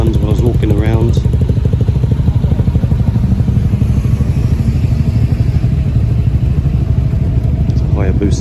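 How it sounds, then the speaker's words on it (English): Suzuki Hayabusa motorcycle engine on a street in Japan: a loud, steady, close-up idle rumble running throughout, with voices talking over it at the start and end. "It's a Hayabusa, right?"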